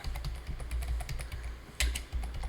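Rapid, irregular keystrokes on a computer keyboard as code is typed, close and clear, with one louder clack near the end and no talking.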